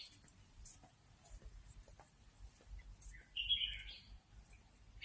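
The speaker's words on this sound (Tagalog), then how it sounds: "Yan, yung mga ibon, maingay." A short burst of bird chirping rises over a quiet, low rumbling background, with faint scattered calls elsewhere.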